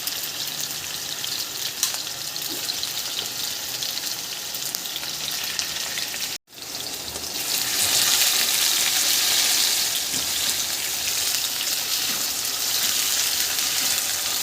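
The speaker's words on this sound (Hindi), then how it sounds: "अब ये चिकन फ्राई हो रही है।" Small cubed chicken pieces for a boti burger fry in a pan with a steady, dense sizzle that runs throughout, broken by one brief dropout near the middle before resuming slightly louder.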